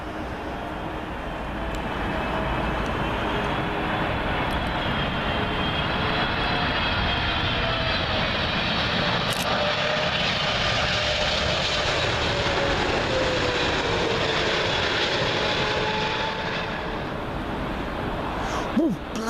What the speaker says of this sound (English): Next, Air India's 777 Star Alliance livery. This one in from Delhi.